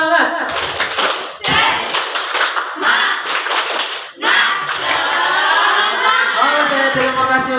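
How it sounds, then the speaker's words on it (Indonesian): A class does a rhythmic spirit clap to close a lesson, with many hands clapping together in bursts and patterns, loud and close, and children's voices mixed in. "kalau bahagia kita tutup dengan tepuk semangat"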